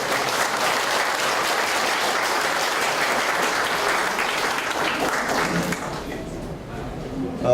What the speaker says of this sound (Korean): 우리 하광숙 도의원께 크게 응원의 박수 한번 보내주세요